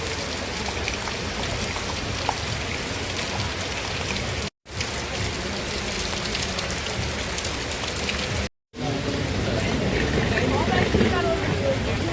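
Rain falls steadily in the hill country around Ella, Sri Lanka, near a train at a platform, making a dense, even patter that fills the whole stretch, with two short dropouts.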